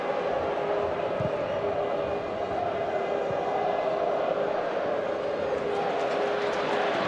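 A large football stadium crowd at the Riverside during a Middlesbrough versus Steaua UEFA Cup night makes a dense, steady roar that fills the whole clip, with a commentator-style voice faintly under it.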